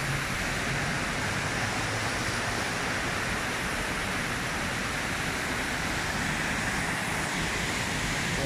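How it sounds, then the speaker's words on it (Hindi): Floodwater rushing through city streets in Makkah after heavy rain, a steady, loud, broadband roar of fast-moving water that stays constant throughout. "ऐसा लगता है जैसे किसी समंदर या दरिया का पानी चल रहा है, ऐसा रफ्तार में पानी जा रहा है"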